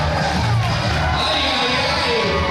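Wrestling arena crowd cheering and roaring for El Magnifico during a three-way match, a dense, steady wall of noise with shouts rising through it and a commentator's voice mixed in.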